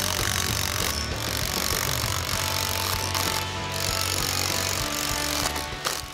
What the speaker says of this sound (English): Once we run everything in with an impact gun